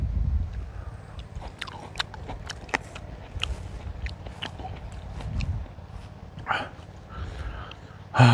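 Close biting and chewing of fresh, juicy plums in a plum orchard, with repeated crisp bites and wet chewing that run steadily under a low outdoor rumble, along with some voice.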